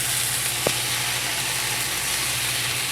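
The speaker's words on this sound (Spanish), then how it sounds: "se los voy a agregar y vamos a ir igual moviendo para que se vayan cocinando" Chopped tomatoes fry in a hot pan for beef birria as they are stirred, a dense, loud, continuous sizzle with one brief knock of the utensil, and no one talks.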